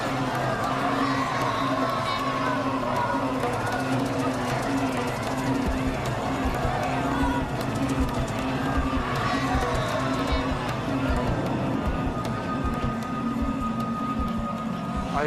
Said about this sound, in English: The police chief walks into the chaos as thousands of terrified people flee